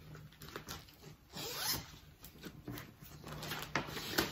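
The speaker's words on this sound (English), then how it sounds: "I just feel dramatic doing a zipper." A clothing zipper is pulled in several short rasping strokes, close and fairly quiet, with no talking over it.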